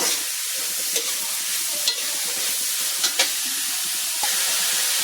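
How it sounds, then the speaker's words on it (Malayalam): Onions fry in a pan for beef fry, with a constant soft sizzle and hiss broken by a few sharp clinks and scrapes of a spoon stirring against the pan. "ഇനി നല്ലതായിട്ടൊന്ന് വഴന്ന് വരണം അതുവരെ നമുക്കൊന്ന് ഇടയ്ക്കിടയ്ക്കൊന്ന് ഇളക്കി കൊടുക്കാം"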